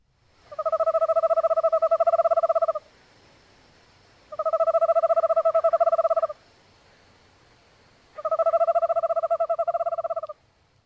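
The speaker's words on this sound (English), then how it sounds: "Let me play the Eastern Screech Owl." A trilling, phone-like Eastern Screech Owl call sounds three times, each a steady two-tone warble lasting about two seconds, separated by short silences.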